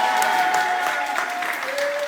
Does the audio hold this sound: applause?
yes